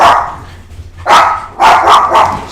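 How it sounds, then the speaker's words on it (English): A dog barks loudly and close by, with three sharp barks in quick succession. "I'm gonna get this dog out of here."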